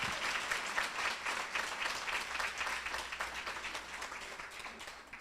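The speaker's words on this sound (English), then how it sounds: "Let's give Sarah Jax one more big round of applause." Sustained audience applause fills a hall at a sorority chapter's 40th anniversary celebration, a dense, steady wash of many hands clapping that eases off slightly toward the end.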